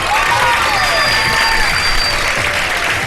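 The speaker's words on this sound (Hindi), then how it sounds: "बहुत सारी तालियां।" Loud, sustained applause from a crowd, with a few faint whistles riding over the clapping, continuing steadily throughout.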